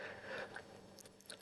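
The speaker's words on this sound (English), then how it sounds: "I shouldn't eat a pretzel now." Crunchy pretzel chewed in a few quick, crackly bites close to the mic, the crisp snaps coming in short irregular bursts over a quiet room tone.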